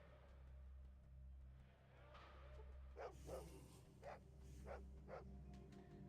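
A dog barks in the retro video game Fallout 2, a string of short, fairly faint barks over a low hum.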